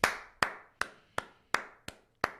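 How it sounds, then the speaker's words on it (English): Slow clap of a single pair of hands, seven sharp, evenly spaced claps about a third of a second apart, close and fairly quiet, each ringing briefly into a small room with no voices. "Slow clap for James O'Keefe"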